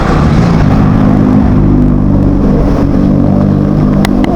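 A motorcycle tricycle's engine runs steadily at idle, a loud, close, continuous low rumble with no talk over it.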